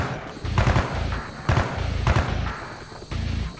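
Gunfire from a weapon in the Call of Duty: Black Ops video game rings out in four loud, close bursts of rapid shots, spaced roughly evenly apart with short pauses between.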